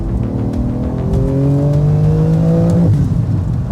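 Mercedes-AMG GT Black Series, a 700-horsepower rear-drive car, accelerating hard with rapid gear shifts: loud, close engine pitch climbing in steps, then a sudden shift cut near the end.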